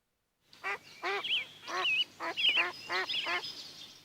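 Duck quacking in a children's telling of Peter and the Wolf, a lively run of about seven nasal quacks in quick succession, close and clear with no talk over them.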